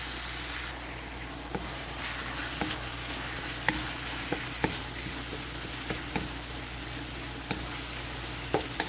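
Ground beef cooking in a pan for a beef pasta dish, a soft continuous sizzle with scattered clicks of a utensil stirring the meat, fairly quiet and close, with no talking.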